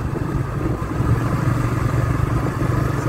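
Honda Biz motorcycle engine accelerating, a steady, close, loud buzzing drone with a slight clatter that holds throughout without pauses, and no one talking over it.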